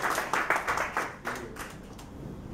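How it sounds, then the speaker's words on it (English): An audience at an evening chamber event claps briefly, a short burst of scattered hand claps fading out after a couple of seconds. "Should all give a clap, huh?"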